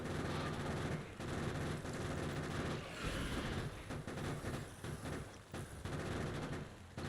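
Continuous machine gun fire in the Factorio video game, a steady rattling stream of shots at moderate level, blended with low rumbling game background and no talking.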